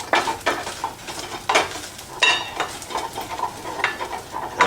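Cooked rice is fluffed in a pot with a utensil, giving a series of soft scrapes and stirring clatters at close range, in uneven bursts with no talking.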